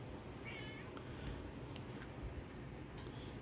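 A pet cat meows, a short rising call near the start with a fainter one later, over a steady low room hum in a home kitchen.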